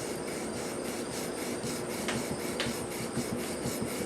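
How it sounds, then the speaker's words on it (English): A Stratocaster guitar body is sanded by hand with 400 grit sandpaper in a steady, close, rhythmic scratching rub of repeated back-and-forth strokes. "The 400 grit is the longest stage because you're taking off the most"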